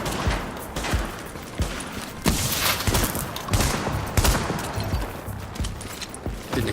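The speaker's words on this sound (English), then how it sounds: "Didn't expect my long-range shotgun attacks, did you?" Shotgun fire in The Division, a video game: repeated loud, booming blasts in quick succession with a chaotic, layered gunfight texture throughout.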